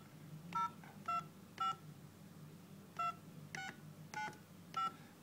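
Telephone keypad tones from a SpareOne mobile phone, eight separate beeps in an uneven dialing rhythm, clear and close over a quiet low hum.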